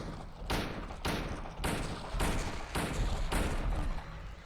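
Gunshots fired at an enemy in Silent Hill 2: six evenly spaced, heavy reports about half a second apart, loud and close, with no talk over them.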